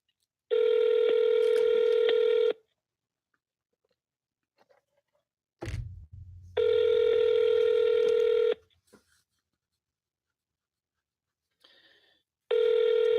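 A phone line rings while Google Voice connects a call: two long electronic ring tones separated by silence and a brief rustling click, then a third ring beginning.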